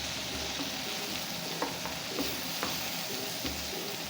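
Tomato fries in a pan with an even, moderate sizzle, and a few soft stirring taps land at intervals. No voices are heard.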